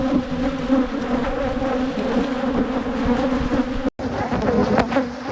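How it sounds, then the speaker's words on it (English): Honey bees swarm around an open hive during early spring colony work, giving a dense, continuous buzz close to the listener. It stays loud and steady, with one brief dropout near the end. "Tons of bees in here too."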